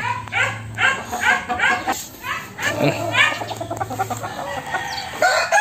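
Gilmore Hatch gamefowl, including a golden gray bird, cluck in repeated bursts and crow outdoors, with a dog barking nearby and a voice speaking among them.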